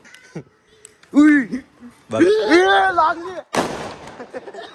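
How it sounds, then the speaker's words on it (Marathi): Firecrackers set off by a group outdoors, with one sharp early pop, then a loud broadband burst near the end, while several voices shout and talk excitedly throughout. "आता वापस फटाके घेऊन फोडू."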